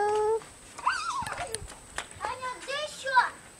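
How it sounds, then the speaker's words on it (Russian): A neighbour's dog at a rural home, whining and yelping in high, drawn-out whimpers close by. People talk and call out now and then over the sound. "Соседский пес."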